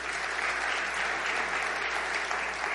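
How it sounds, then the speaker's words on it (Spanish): A church congregation claps steadily in a dense, continuous burst of applause that holds evenly from start to finish, with no voices standing out. "Denle un aplauso si así lo cree."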